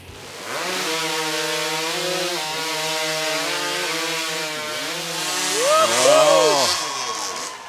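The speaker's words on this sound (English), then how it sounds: "Next heat of the hot saw, Richard Jordan of Connecticut going up agai" A hot saw, a modified racing chainsaw, cuts through wood at a STIHL Timbersports competition in Menomonie, Wisconsin. Its engine holds a loud, steady whine for several seconds, then rises in pitch as the cut finishes. An announcer's voice sits faintly beneath it.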